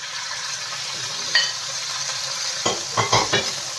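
Tomatoes and meat frying in a pan, a steady close sizzle with occasional scraping and clinks from a utensil stirring.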